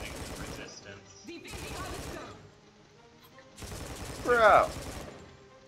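Bursts of rapid gunfire from Guardians of Orion, three dense volleys a second or so each, with a player shouting briefly over the last burst.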